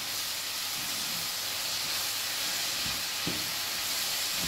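Portobello mushrooms in a sofregit sizzle steadily in a pan as their water releases, a close, continuous frying hiss with a few soft stirring knocks.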